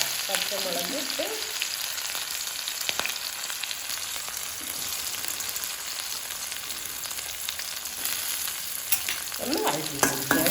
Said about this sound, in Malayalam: ചീനച്ചട്ടിയിൽ ഇഞ്ചി ഇട്ടു ആദ്യം തന്നെ.